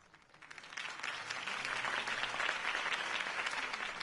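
Crowd applause swells up quickly after a campaign speech in a Batman video game, a dense wash of clapping that holds steady and loud for several seconds.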